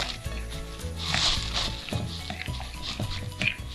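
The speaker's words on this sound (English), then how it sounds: "So now we are gonna stir it in" Spoon stirring a vegan mint chocolate cookie mixture in a bowl, with short irregular scraping and clicking strokes, close and moderately loud.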